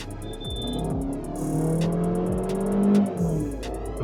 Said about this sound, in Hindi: तो अब कार को लॉन्च करते हैं गाइज